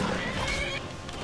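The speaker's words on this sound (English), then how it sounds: "But your horse, your steed." A horse in the Skyrim video game neighs loudly, a close whinny filling the short moment over steady game background sound.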